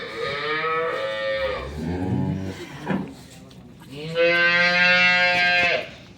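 Dairy cows on a farm low in long, drawn-out moos, one sustained call followed by a pause and then a second loud, close moo.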